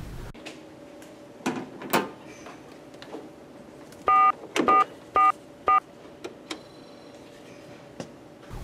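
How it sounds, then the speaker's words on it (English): A RATH emergency base station sends DTMF dialing tones in four short, evenly spaced bursts, set among soft clicks and handling noises in a quiet room. "Place a call from the base station to a phone."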